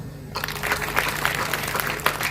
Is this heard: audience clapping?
yes